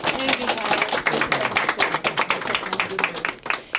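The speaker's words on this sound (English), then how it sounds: "So we'd just like to give a round of applause for Tyler at Lake Region TV." An audience applauds at a Maine Lakes Chamber ribbon cutting, giving close, dense clapping from a small crowd for a few seconds.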